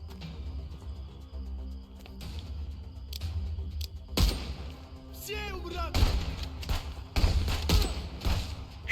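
A new weapon fires in the Contraband Police video game, giving several heavy thumping shots over steady low engine-like rumble, while someone talks over it.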